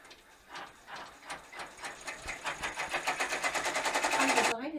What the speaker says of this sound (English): it's going to go ahead and stitch that little bit of a decorative border and then the satin stitch around the edge